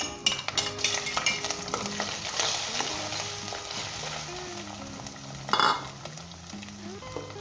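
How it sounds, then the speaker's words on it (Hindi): Close sizzling of ginger and garlic frying in hot oil, with a spatula stirring and scraping the pan and occasional light clinks. "अदरक लहसुन को डाल के हम 1 से 2 मिनट तक फ्राई करेंगे"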